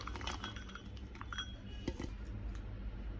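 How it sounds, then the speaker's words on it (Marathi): Roasted raw mango mixture being tipped into a stone mortar and pestle, with several close metallic clinks and scrapes of a utensil against the bowl in a quiet kitchen. "आता आपण हे परतून घेतलेलं मी खलबत्त्यात टाकून घेते।"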